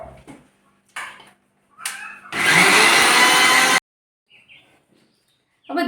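A mixer grinder whirs loudly for just over a second while crushing black peppercorns with turmeric powder, a dense, steady burst that cuts off abruptly, framed by a few short kitchen knocks and clatters before and after.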